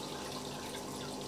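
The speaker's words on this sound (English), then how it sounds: "I'm in the middle of doing water change on this tank now." Steady rush of water pouring from a tap or hose into a fish tank during a large aquarium water change, a constant close hiss with no pauses.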